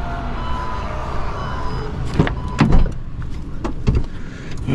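A Copart auction car's automatic headlight mechanism closing, a whirring motor followed by several sharp mechanical clicks and clunks, close by with no talking.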